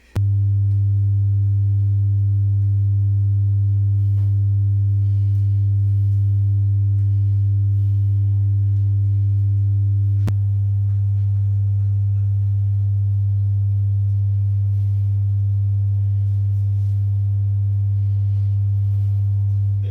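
Steady, loud low-frequency sine test tone at about 100 Hz played through RCF 8004-AS and QSC KS118 subwoofers, holding constant for the whole stretch with a brief dip midway.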